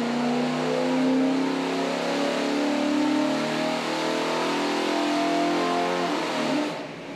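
An old-school straight-six engine held at high revs during a dyno pull, a loud, steady roar sustained for several seconds before easing off at the end.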